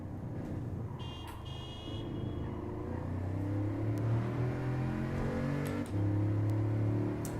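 A Lexus LFA race car engine in Gran Turismo 7 at Watkins Glen Short, a steady close drone rising and falling through revs and gear changes, with no talk.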